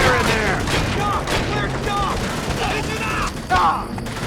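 Gunfire in the video game Call of Duty: World at War, dense rattling shots and booms in a continuous battle din, with voices shouting over it.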